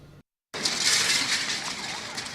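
Glass shatters as fire tears through a large mansion, a hissing, crackling wash of fire noise with brittle breaking sounds heard after a brief silence.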